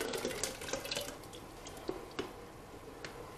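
Baghrir batter pours into a blender jar in a steady watery stream, with a few soft drips and splashes close by.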